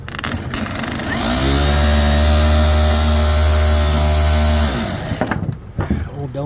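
An old Delco Remy starter motor from a Farmall H tractor, being bench-tested after cleaning corrosion from its brushes, whirs up to a loud steady electric whine, holds for several seconds, then cuts off and winds down.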